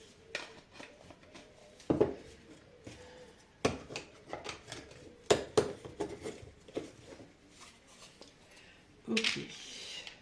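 Temu furniture parts are fitted and screwed together during assembly, giving scattered close clacks, scrapes and rubbing knocks in irregular bursts at a low level, with brief quiet gaps between them.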